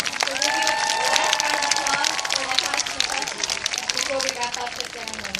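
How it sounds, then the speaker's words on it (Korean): Audience applause and cheering at a film festival handprinting ceremony in a festival village, a dense wash of clapping with crowd voices and some overlapping talk throughout. "다시 한번 큰 박수 부탁드리겠습니다"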